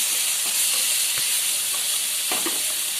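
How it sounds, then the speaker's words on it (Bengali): Spices fry in oil in a pan for paneer chana masala, producing a close, unbroken hissing sizzle with a few faint clicks underneath. "এবারে দেখুন এই মশলাটাও ভাজা হয়ে এসছে।"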